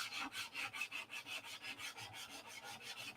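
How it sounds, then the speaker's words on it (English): Hand sanding on a model P-47 airplane produces steady back-and-forth rasping strokes, about five per second, close and fairly quiet, with no voices. "I'm sanding or doing something."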